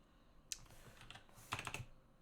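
Keystrokes on a computer keyboard: a single sharp tap, then two quick clusters of rapid clicks, fairly close and moderately loud, with no talking.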